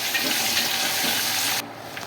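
Onion hits hot tempering oil already crackling with chilies, mustard seeds, cumin and garlic for Vidarbha-style dal palak, giving a loud, close, hissing sizzle that cuts off abruptly after about a second and a half.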